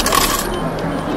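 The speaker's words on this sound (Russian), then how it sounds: "монетки высыпались" Coins spilling out of a ticket machine in Japan, a quick metallic rattle and clatter in the first half second, then fading into room noise.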